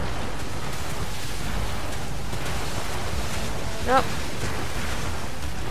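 Wind and waves at sea in Assassin's Creed III, a steady broadband rush of wind and surf under a ship at sail, with a brief spoken word partway through.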